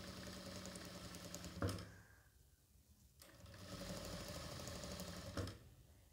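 A Jack F4 power sewing machine stitches folded cotton cloth, running in a steady fast whirring hum that stops briefly with a thump, then starts again and runs on alone.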